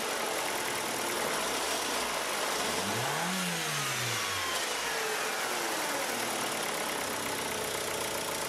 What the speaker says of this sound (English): Let me rev it up a little and see if it comes back.